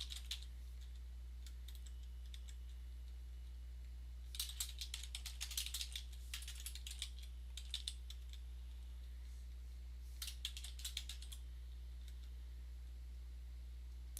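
Typing on a computer keyboard comes in a few short bursts of quick clicks, close and fairly quiet, separated by gaps with a low steady hum underneath.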